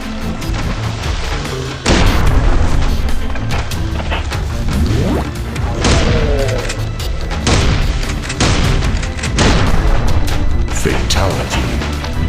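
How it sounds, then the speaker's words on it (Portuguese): A shotgun fires in the zombie video game Zombie Monsters, with several loud, booming blasts spaced a few seconds apart over continuous, dense game noise and action. "Que tiro foi esse?"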